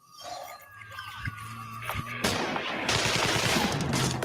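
High-velocity rifle gunfire in a shootout, a few sharp shots followed by dense rapid bursts in a noisy, chaotic mix, loud and sustained with no talk.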